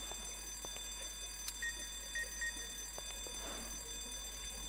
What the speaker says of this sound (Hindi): ये अलार्म किसने बजाया था